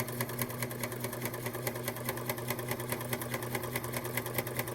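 A Huskylock 1003LCD serger runs steadily while sewing a tri needle coverstitch, its motor humming with a fast, even mechanical whir and rapid needle chatter that holds constant and close throughout.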